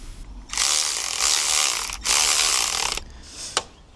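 A ratchet tightens the brake bracket on a Honda RS250 motorcycle during a strip down, two long loud bursts of rapid clicking separated by a short pause, then a brief final click.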